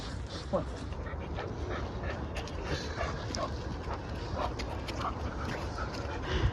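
Dogs whimper and yip intermittently on a walk, short sharp vocal bursts over a rustling, shuffling outdoor background.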